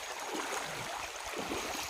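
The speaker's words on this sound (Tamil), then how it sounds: "விடிய விடிய பெஞ்ச மலையில் வந்த தண்ணி அங்கே நம்ம வீட்டுக்கிட்ட இருக்க ஓடையிலேயே இந்த அளவுக்கு தண்ணி போகுது" A rain-swollen stream near a house rushes steadily, a dense close roar of flowing water with gurgling churn, continuous and alone.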